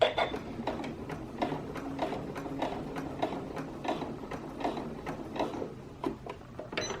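A sewing machine stitches bias tape facing onto a garment beside button loops, running in a steady rapid mechanical ticking with short bursts, close and alone.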